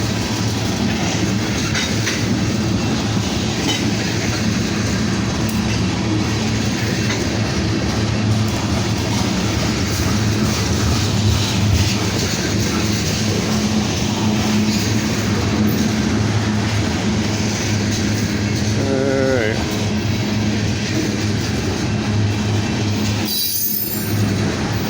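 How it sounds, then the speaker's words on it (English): A long freight train of mostly tank cars with a couple of boxcars passes close by in a town neighbourhood, a constant heavy rumble with clickety-clack and brief wheel squeals near the end. "this is a long train, so there are a lot of tankers on this one. A couple boxcars."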